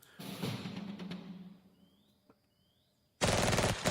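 Machine gun fire in the World War II strategy game Valor and Victory, a dense loud burst at the start that fades to a quiet lull, then a sudden harsh burst of automatic gunfire returns near the end.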